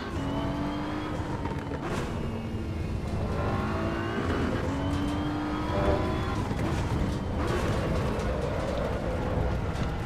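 A BMW M4 in Assetto Corsa EVO, its engine revving up and shifting through gears in repeated rising pulls, loud and steady throughout with no pauses.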